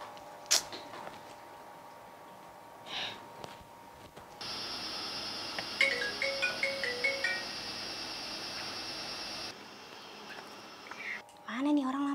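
A phone rings back while placing a call, a steady electronic ringback tone with a short melodic beep pattern, preceded by faint dialing taps and followed by a voice talking at the end.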